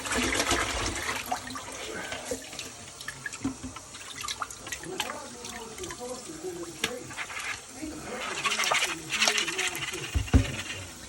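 Running water splashing and pattering as rabbit meat is rinsed clean during butchering, a steady close stream with drips and small clanks throughout while people talk over it.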